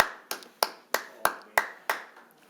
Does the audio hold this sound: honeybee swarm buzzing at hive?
no